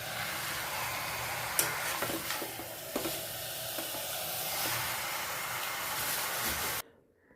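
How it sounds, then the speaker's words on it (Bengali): Chicken masala with potatoes sizzling and being stirred in a pan, a steady close frying hiss with occasional scrapes and clicks of the spoon, cutting off near the end. "এই যে আলুটা দিয়ে দিলাম, দিয়ে সুন্দর করে কষাচ্ছি"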